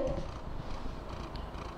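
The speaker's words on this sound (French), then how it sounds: "ma chipie préférée qui fait que ronronner" A cat purrs steadily up close, a continuous low rumbling vibration with a faint rhythmic pulse, loud and alone without talk.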